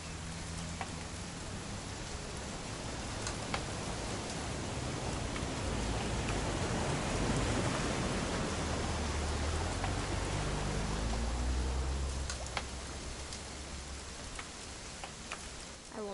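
Steady rain falls in the video game What Remains of Edith Finch, a dense, even hiss of drops on surfaces with occasional sharper ticks, continuous and without talk.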